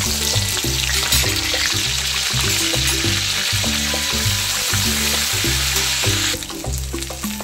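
Ginger-garlic paste sizzles loudly in hot oil alongside browned garlic, a dense continuous crackle and hiss heard close up, with no talking and a steady rhythmic tonal pattern in the background.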